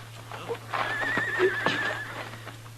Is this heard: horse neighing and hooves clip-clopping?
yes